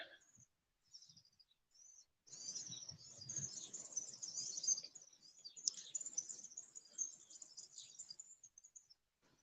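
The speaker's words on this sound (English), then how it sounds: "Like all those birds." Birds chirp and trill in high, bright bursts against a quiet background, with a soft low murmur underneath for a few seconds.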